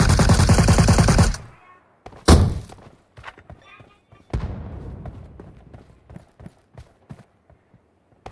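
Gunfire in the video game MetroRoyale starts with a long, loud burst of rapid automatic shots. Scattered sharp single shots and thuds follow.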